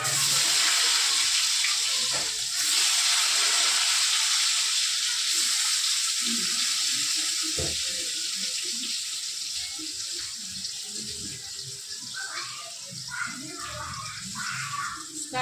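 Water runs in a bathroom during a bath, a continuous splashing hiss that stays fairly loud and then thins slightly, with scattered knocks and splashes.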